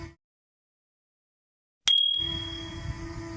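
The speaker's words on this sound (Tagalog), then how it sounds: "pindutin ang notification bell" A bright bell ding rings out once after near silence, its clear tone ringing on and fading over a faint low hum.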